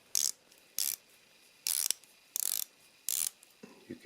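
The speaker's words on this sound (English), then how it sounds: "It is a 120 click bezel." A 120-click black ceramic bezel on a 40mm microbrand dive watch ratchets in five quick bursts of crisp clicks, each burst well separated by pauses, close and clear with no talking.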